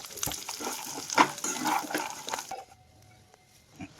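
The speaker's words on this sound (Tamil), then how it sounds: "ஒரு பேனில் நெய்யை ஊற்றிக்கோங்க பாதாம் முந்திரியை முதல்ல வறுத்தி எடுத்துக்கோங்க" Almonds and cashews roast in ghee in a pan, giving a busy, close crackle with stirring scrapes for about two and a half seconds before it drops to near quiet with a few faint clicks.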